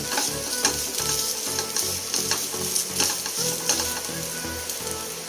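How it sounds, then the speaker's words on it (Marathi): Sweet coconut rice is stirred in a hot pan, a steady close sizzle with rhythmic scraping strokes of the spoon running throughout, with no voices. "व्यवस्थित हलवून घेऊया।"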